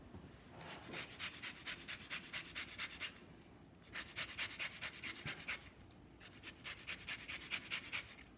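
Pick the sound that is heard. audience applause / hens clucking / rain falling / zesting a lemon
zesting a lemon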